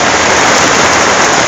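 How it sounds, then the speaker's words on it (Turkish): Rain falls steadily in a park as a dense, loud, even hiss of drops, with no other sounds standing out. "Nasıl bir yağmur var şu anda? Güzel yağmur var."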